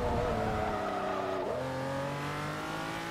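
Racing car in the video game Forza Motorsport 3 revving hard, its engine pitch sweeping up and dropping with a gear shift midway, tires squealing, a continuous loud drone with no talk.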